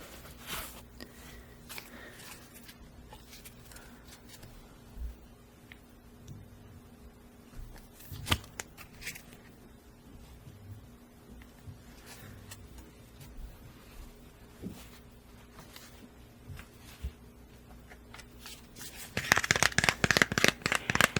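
Near the end, a tarot deck in the Etteilla style is shuffled in a rapid, close burst of riffling card flutters. Before it come quiet, sparse handling taps and rustles.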